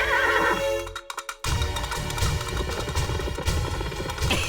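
Horses neighing during a chase scene in an animated Tenali Rama adventure, with loud whinnies over a busy music-and-effects soundtrack and a brief dropout near the start.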